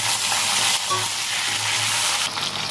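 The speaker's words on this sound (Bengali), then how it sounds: "এবার একসাথে এই সবজিগুলো আগে ভেজে নেবো ভালো করে।" Eggplant, green banana and sweet potato fry together in hot oil with salt and turmeric, producing a loud, continuous close sizzle with occasional stirring and no voices.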